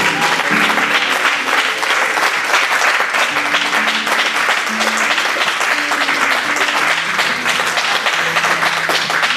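A church congregation applauding during a French-language worship service, steady loud clapping throughout with voices and music faintly underneath.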